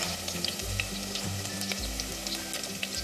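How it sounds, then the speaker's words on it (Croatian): Meat patties (pljeskavice) frying in hot oil in a pan, a steady close crackling sizzle with scattered sharp pops throughout, no voices. "Pljeskavice pržite po 4 minute sa obje strane."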